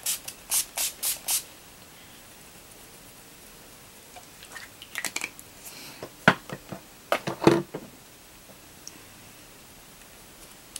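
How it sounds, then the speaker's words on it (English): Kooky Refresh Hydrating Setting Spray misted onto a face: a quick burst of five short hissing sprays, followed later by scattered fainter spritzes and soft rustling, all close and quiet. "hit my face with some setting spray"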